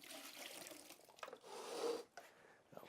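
Water pours and splashes into a container ahead of mixing sanded tile grout for a floor, an uneven rushing flow that swells briefly, then stops, with faint handling noises after.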